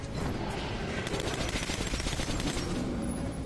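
Grenades and gunfire in Metro Last Light make a continuous dense clatter of rapid shots over a rumbling low roar, loud and unbroken.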